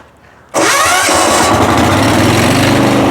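A Weima walk-behind tractor engine starts abruptly after a quiet moment, catching at once and settling into a loud, steady mid-pitched running roar, close by with no talk over it.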